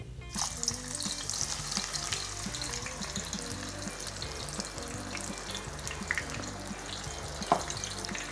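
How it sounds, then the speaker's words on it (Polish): Steady, dense sizzling of shallots frying in peanut oil at 160 degrees, continuous crackle throughout with an occasional sharper pop, close and fairly loud. "Nasze szalotki w tym momencie będziemy smażyć w tym oleju przez około 5-7 minut"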